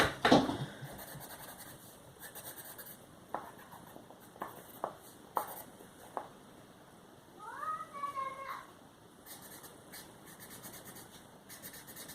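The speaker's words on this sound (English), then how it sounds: "So, Kitty's on the move." A house cat gives one drawn-out, close meow, set among soft tapping and scratching sounds at a table.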